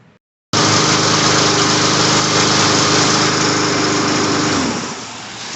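A Troy-Bilt TB130 lawn mower engine starts abruptly after a carburetor repair and tune-up, running loud and steady at close range before its pitch and level drop slightly near the end.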